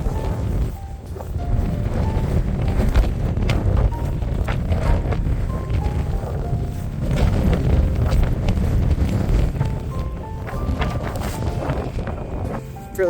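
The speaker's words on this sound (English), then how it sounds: "Windy, no rain for a change" Strong wind blows across a trekking trail on the O-Trek in Patagonia, Chile. It makes a steady, close, low roar and buffets the microphone throughout, rising and falling slightly in gusts.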